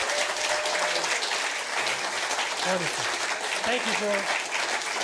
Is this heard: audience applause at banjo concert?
yes